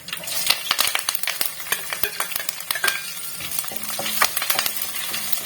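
Curry leaves, green chillies and garlic sauté in oil for a lime pickle, giving a steady close sizzle broken by sharp clinks and scrapes of a spoon against the pan.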